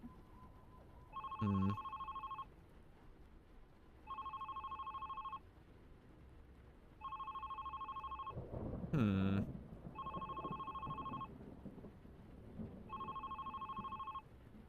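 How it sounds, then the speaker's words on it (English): A telephone ringing in the video game The Red Strings Club, with five evenly spaced electronic ring bursts under a low background hum and a couple of brief sharp noises. "that phone ringing in the background is going to be super annoying"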